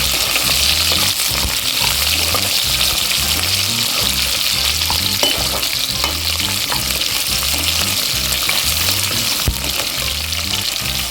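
Onions and garlic sauté in hot oil in a pressure cooker for tamarind rice, giving a steady loud sizzle broken by a regular rhythm of stirring scrapes, with no talking.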